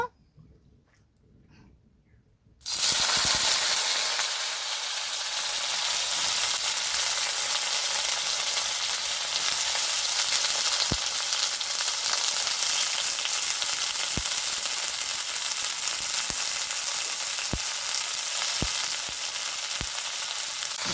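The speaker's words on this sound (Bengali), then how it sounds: "এখন আমি ঝিঙ্গেটাকে কষিয়ে নেব।" Ridge gourd sautéing in oil in a pan for jhinge sukto: after a quiet start, a loud, steady, close frying hiss sets in abruptly and keeps going with a few faint stirring taps.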